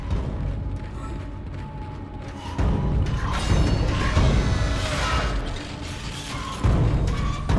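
A heavy door mechanism in Dead Space grinds and clanks open, creaking and ratcheting in loud metallic surges that swell and recede, with no talk over it.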